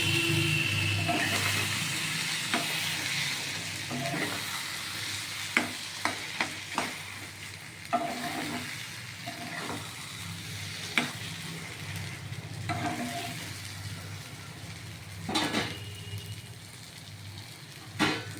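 Prawn masala with cumin and garam masala sautéing in a pan, a steady sizzle broken by repeated sharp clicks and scrapes of a spoon stirring, close by.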